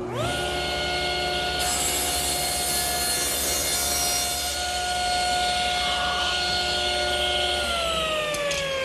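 A board with its jointed edge against the fence feeds through a table saw in one long rip cut, the blade's steady whine and gritty cutting noise sustained for several seconds before the pitch drops as the cut finishes.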